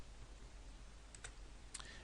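A handful of quiet clicks on a computer keyboard while typing code for a simple website, in two short bursts over a steady background hum.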